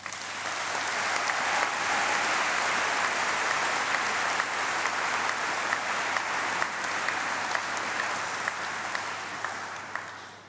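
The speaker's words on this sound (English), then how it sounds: "A round of applause, please." An audience applauds at a graduation congregation ceremony, with dense, sustained clapping from a large crowd filling the whole stretch before slowly tapering at the end.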